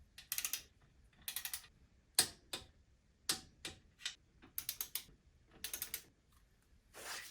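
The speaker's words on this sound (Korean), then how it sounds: "그리고 토크렌치로 너트들을 조여줍니다." A torque wrench ratchets while tightening the wheel nuts on a twenty-year-old Cadillac CTS, giving quick bursts of sharp, close clicks separated by short pauses.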